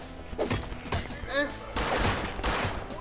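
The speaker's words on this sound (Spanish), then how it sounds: "¡Oh, Peter, que nos están tirando!" Gunfire during a raid in the video game Rust, a rapid volley of shots in bursts with thuds, close and loud, mixed with excited voices shouting.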